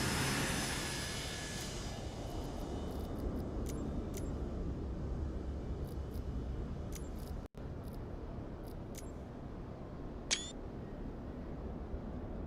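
Boeing 727-100 jet engines idling and rumbling steadily while taxiing in Microsoft Flight Simulator 2024, a constant broadband roar with a high whine at the start, plus a few faint clicks.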